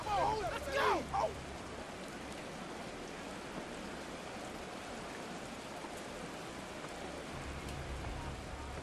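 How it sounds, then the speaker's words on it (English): Steady rain hisses across the stadium in a Madden 24 simulation of Commanders versus Panthers, a constant soft wash under a brief burst of crowd or announcer sound at the start. "The rain set to continue as we are underway in the second half."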